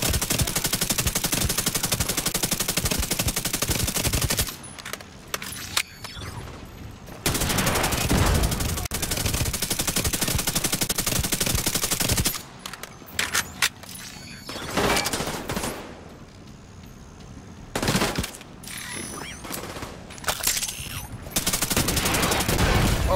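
A player's turret firing in the video game The Division 2 during the Capitol Building mission: loud, sustained automatic gunfire in long bursts separated by short gaps, dense and close throughout.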